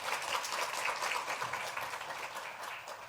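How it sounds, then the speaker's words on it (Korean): Applause for a graduate of a church discipleship course at the Johannesburg Korean Church Sunday service, a dense, steady patter of many hands clapping throughout, with no talk over it. "뜨거운 박수로 격려하겠습니다."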